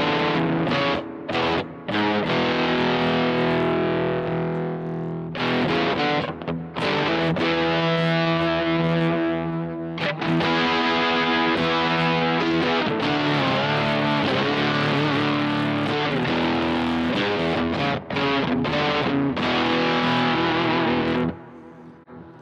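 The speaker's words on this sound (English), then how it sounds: "nice mid-grade distortion level there" Electric guitar played through an IdiotBox Effects Power Drive distortion pedal, loud chords and riffs with a mid-grade overdriven growl, sustained passages broken by brief stops, no talk.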